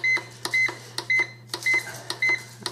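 An electric pressure cooker's control panel being set for pressure-cook time, a series of short bright electronic beeps in an uneven rhythm, each paired with a soft button click, loud and close over a steady low hum.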